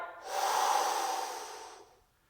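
A deep, forceful exhale during a core workout, one long breathy rush that swells and fades over about two seconds, close and fairly loud with no talking.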